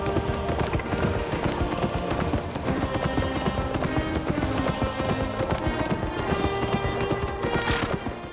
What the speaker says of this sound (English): on our horse that came back from the dead after plummeting off a cliff